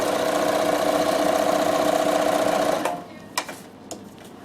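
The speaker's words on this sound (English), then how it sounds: "So I'll put the little blanket stitch on, which is number 50 on this machine." A Bernina sewing machine stitches a blanket stitch in a fast, even mechanical whir for nearly three seconds, then stops, leaving a few faint clicks.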